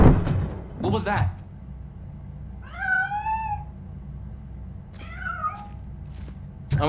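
A cat meows twice in the RoboCop Rogue City video game, a rising, wavering cry followed a little later by a shorter one, close and clear over a low steady background hum with a couple of soft thumps at the start.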